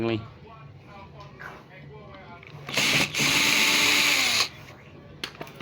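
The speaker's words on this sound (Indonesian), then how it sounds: "Nah, baut ini dilepas teman-teman" Bolts being unscrewed from a Monster brand active speaker during repair, a loud whirring power-driver burst lasting under two seconds after a stretch of quiet handling, with a voice talking nearby.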